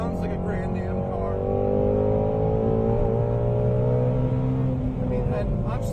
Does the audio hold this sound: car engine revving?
yes